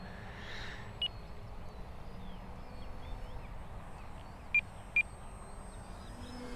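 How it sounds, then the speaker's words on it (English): A countdown timer with one minute left gives a few short, high electronic beeps: a single beep, then two close together, over a steady background hum. "the timer is beeping for us, which means 1 minute left on the timer"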